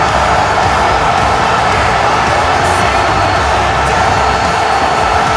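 Steady roar of a wrestling video game arena crowd cheering, dense and continuous throughout with no clear breaks, loud and sustained.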